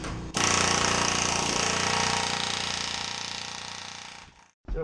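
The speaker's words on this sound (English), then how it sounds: "We're using this air hammer." A pneumatic air hammer pounds in rapid, continuous bursts during a bathroom remodel, loud and close. It runs for about four seconds, fades as it winds down, then starts again briefly.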